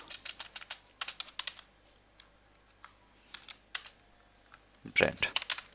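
Computer keyboard keys clack in quick bursts while someone types Java code for a POJO class. Clusters of close, crisp keystrokes are separated by short pauses, with a denser flurry near the end.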